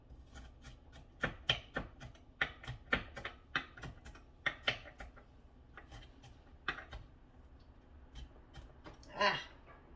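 A knife chops an onion on a board in uneven bursts of sharp, close taps, some quick runs and pauses between, fairly quiet, with a brief rustle near the end.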